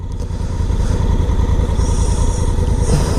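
A 2017 Honda Africa Twin motorcycle engine runs steadily through an aftermarket exhaust pipe, a loud, close, continuous throaty rumble with slight clatter, holding an even pitch as if idling or cruising.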